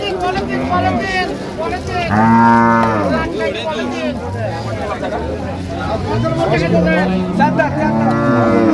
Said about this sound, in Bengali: আর আমরা দেখছিলাম এখানে একটি গরু দেখছেন, তোতা ভাই।